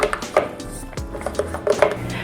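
A spatula scrapes seeds down the inside of a blender jar in short, uneven strokes, with a few light knocks against the container, close by.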